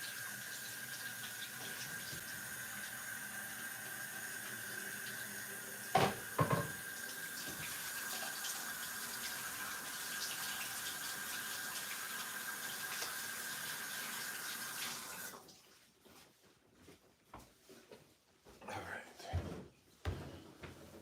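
Tap water runs steadily from a faucet during handwashing, with a couple of knocks partway through, then the flow stops and soft rustling and handling noises follow.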